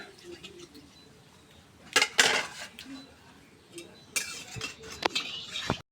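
Metal wok set down on a kitchen stove, with a few loud clanks and scrapes of cookware and utensils among quieter clinks, close by, and a voice faintly in the background.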